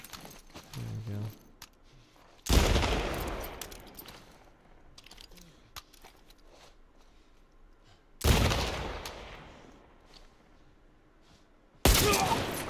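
Hunting rifle shots in The Last of Us Part I: three loud, separate blasts several seconds apart, each a sharp crack with a long ringing decay, with quieter movement sounds between them.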